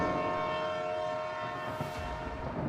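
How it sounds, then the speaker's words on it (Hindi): A train horn blares in a long, sustained chord over the rumble and clatter of passing rail cars. "तभी सबको ट्रेन के हॉर्न की आवाज़ सुनाई दी"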